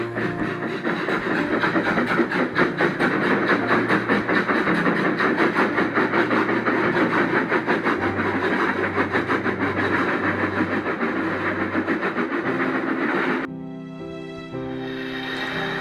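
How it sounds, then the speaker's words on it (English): A train engine runs steadily with a rhythmic mechanical chugging and low drone, fairly loud and close, before shifting near the end to a smoother tonal hum. "Alex struggled a little, but was able to move Alan and his train"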